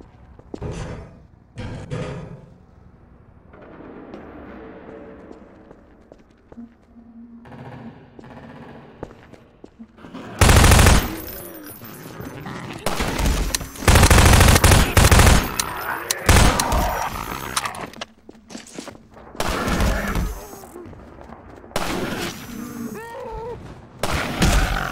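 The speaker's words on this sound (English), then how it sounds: "Let me shoot out the latch. I might be a little rusty with this rifle." Rifle gunfire in Half-Life 2 Episode One, shooting at a latch to drop a ladder: loud rapid bursts of shots crackling close by from about ten seconds on, after quieter thumps and ambience.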